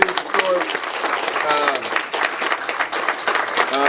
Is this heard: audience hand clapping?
yes